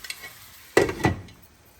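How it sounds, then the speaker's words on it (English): A brief burst of hissing sizzle from salmon hitting a hot pan, with a second crackling surge, then fading to quiet. "so now it's sizzling"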